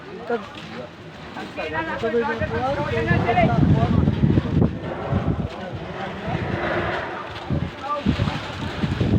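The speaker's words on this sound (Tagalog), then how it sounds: "May hangin pa." Gusty wind from Typhoon Odette rumbles and buffets the microphone throughout, a steady low roar with people talking over it.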